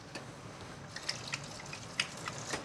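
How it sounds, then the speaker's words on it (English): Red wine is splashed into a pan of bolognese sauce, giving faint liquid pouring and a scattering of soft drips and spatters, quiet and close, with no talk. "Good splash of red wine."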